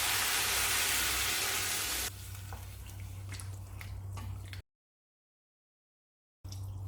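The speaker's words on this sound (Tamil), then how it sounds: "இப்போ தேவையான அளவு தண்ணி சேர்த்துடலாம்." A rushing pour of water into a hot pot of Chettinad vegetable sambar with drumstick, mango and brinjal, followed by steady sizzling and bubbling, then a stretch of silence before the sizzle returns.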